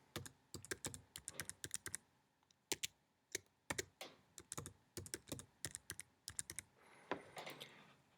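Keys clatter on a computer keyboard as a password is typed, in quick irregular bursts of close clicks with short pauses between groups, alone without talk.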